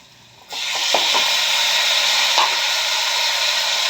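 Tomatoes tipped into a hot frying pan for vangi bath, the pan bursting into a loud, steady hissing sizzle after a quiet start and holding strong to the end.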